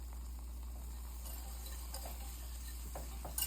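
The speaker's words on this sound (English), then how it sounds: "starting to sizzle a little bit" Butter and flour roux sizzling softly over medium heat while being whisked, a steady low crackle with faint scraping stirs and a brief louder clink near the end, no voices.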